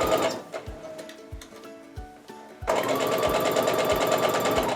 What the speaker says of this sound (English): I'm going to slow down, make sure I'm sewing just to the right of where that thread X is